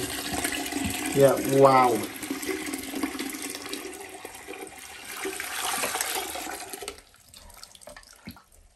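Dirty cleaning water from couch upholstery cleaning poured out of a container, a splashing gush under brief voice reactions, followed by a quieter trickle and background noise.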